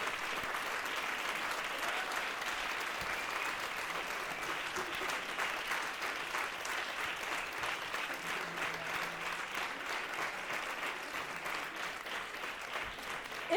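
Steady applause from a comedy show audience, an even wash of many hands clapping continuously at moderate volume with no voices on top.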